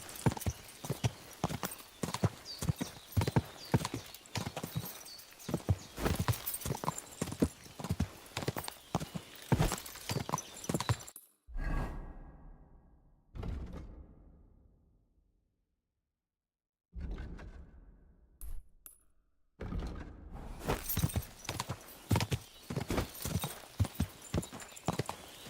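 A horse gallops in the video game Kingdom Come, its rapid, loud hoofbeats drumming close and steady. Midway the pounding breaks off into a few fading thuds and near silence, then the fast gallop resumes.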